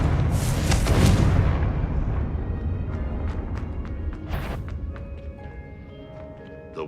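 A Confringo blasting spell in Hogwarts Legacy erupts in a loud, booming explosion at the start, its heavy rumble slowly decaying over several seconds while faint, sparse clicks and tones from the game follow.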